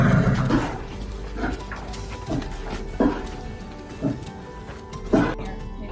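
Skinny, sick horse at a shelter, coughing and snorting in short bursts repeated about once a second, close to the listener and fairly faint overall.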